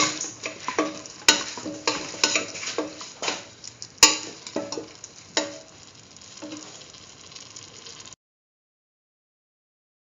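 A spoon stirs green chilies into pumpkin beef rice in a pot, giving repeated scraping and clicking strokes in an uneven rhythm that fade out before silence.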